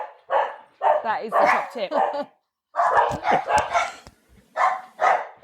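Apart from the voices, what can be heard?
dog barking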